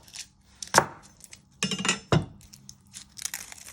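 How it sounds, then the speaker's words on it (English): A knife chops the ends off vegetables for beef goulash, giving a few sharp, separate cuts against a board with crinkly handling noise in between, close and fairly quiet. "And you first want to chop the ends off."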